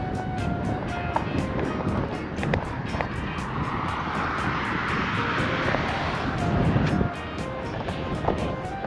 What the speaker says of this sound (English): Because it's super windy today.